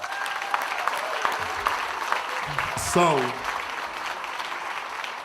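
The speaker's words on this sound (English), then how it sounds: "Please give her another round of applause" An audience at a company's 25th anniversary celebration keeps up steady applause, with a voice briefly speaking over the clapping partway through.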